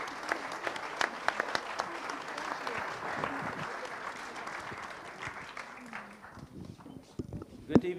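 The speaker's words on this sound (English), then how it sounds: "I think they deserve a round of applause." Audience applause at a lecture event, dense steady clapping from a crowd that gradually thins and fades toward the end, with some voices mixed in.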